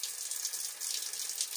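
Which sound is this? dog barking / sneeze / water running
water running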